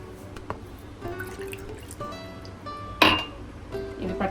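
A cup of water poured into a cooking pot for white buttermilk sambar, heard as scattered drips, splashes and glassy clinks, with one sharper splash and clatter in the middle, close and moderately loud, no talk.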